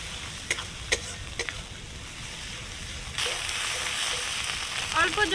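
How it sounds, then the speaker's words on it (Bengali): Chilli powder and turmeric being stirred into masala in a pan for an egg and soybean curry: soft spatula scrapes at first, then the sizzle rises to a louder steady fry, close by, with no voices. "আবার লঙ্কার গুঁড়ো হলুদ গুঁড়োটা ভালো করে মিশিয়ে নেব"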